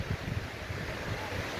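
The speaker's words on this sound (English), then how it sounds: "waves are pretty strong as well. No wonder they do surfing here." Strong ocean waves roll onto a breezy beach at Kuta, Bali, a steady low rumbling surge of surf mixed with wind noise, close and continuous without any talking.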